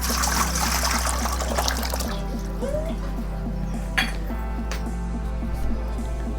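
Water pours steadily into a large metal pot in a home kitchen, trickling and splashing with a few light clinks of cookware.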